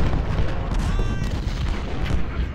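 Cannon artillery fire rumbles through a battle in the Ultimate General: Civil War strategy game, a dense, continuous barrage of overlapping booms at steady loudness with no clear gaps.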